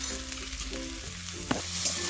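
Onions softening in a pan with a pinch of salt, a steady close sizzle and hiss with soft scraping stir strokes and one sharp clack of a utensil against the pan midway, no voices.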